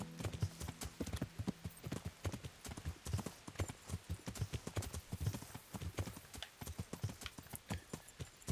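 Steady clip-clop of horse hooves at a walking pace through woodland in the video game Kingdom Come: Deliverance, close and fairly loud, with a brief whinny near the start and no talking.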